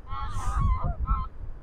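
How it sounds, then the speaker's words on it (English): About a hundred geese honk as the flock lands on a lake at a carp fishery in winter, with several overlapping calls at moderate distance and no voices. "About 100 geese have just landed as well."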